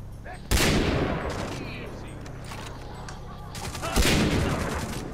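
Far Cry 3 co-op gunfight with two sudden bursts of heavy, loud gunfire, each followed by sustained rattling fire and echo. Scattered shots and a low rumble fill the space between the bursts.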